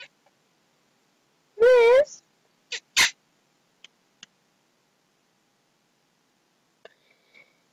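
A house cat moves about indoors and gives one short, clear meow up close, followed by a few faint taps and rustles in an otherwise quiet room; a brief spoken word is heard.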